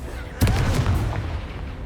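Confringo blasting spell going off in Hogwarts Legacy combat: one sharp, loud burst with a deep booming rumble that slowly fades behind it.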